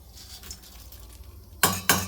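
A spoon stirs fried poha mixture with roasted gram in a pan, soft scraping and rustling at first, then two sharp, loud metallic clanks of utensil against pan near the end.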